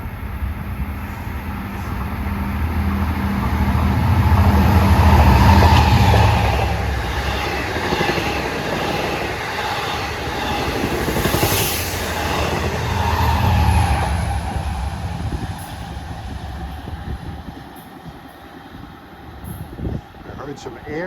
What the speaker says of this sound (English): train 660 barreling down on us en route from New York to Port Jefferson